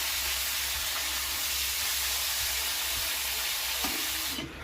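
Chicken meat frying in a pan, with indigenous free-range chicken cooking alongside cauliflower, giving a steady, moderately quiet sizzle and hiss that continues evenly throughout.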